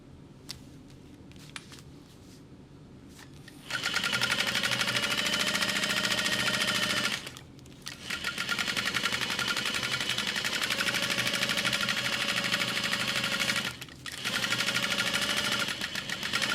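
A sewing machine bastes the edges of a Riva Mini backpack. It runs in three steady bursts of several seconds each, with short pauses between them, loud and close.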